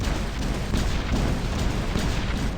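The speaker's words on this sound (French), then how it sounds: "Regardez la cadence de tir." Dense, continuous rapid gunfire from a video game weapon, loud and steady throughout with no pauses or talking.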